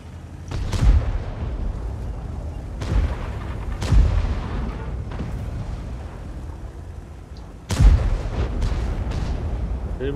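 Heavy gunfire in a video game, several loud booming shots spaced a few seconds apart over a continuous rumbling battle din, close and powerful, with no speech.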